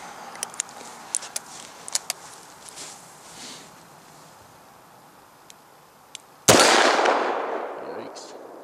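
A .500 S&W Magnum revolver fires a 350-grain Hornady XTP load in one very loud, close blast with a long ringing decay near the end, after a stretch of quieter clicks and handling sounds with people speaking.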